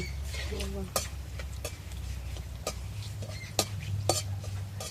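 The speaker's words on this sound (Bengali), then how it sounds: "আর এইদিকে যে পাতাটা ভাজছি" Curry leaves sizzle in hot oil for homemade Bengali chanachur, a steady close crackle broken by a few sharp clicks and taps as the pan is stirred.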